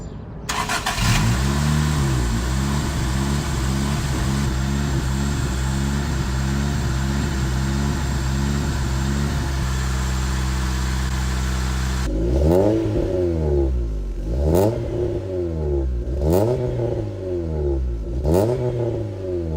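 A Honda CRX with an AEM intake cranks and fires up, then settles into a loud close idle before a series of sharp revs rise and fall repeatedly, each blip roaring with intake noise.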